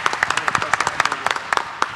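Sparse clapping from a small conference audience during a JavaScript-themed game show, a few hands beating irregular sharp claps close by with no one talking.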